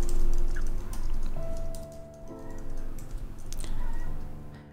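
Code is typed on a computer keyboard at close range in a continuous patter of soft, uneven key clicks, with no talking.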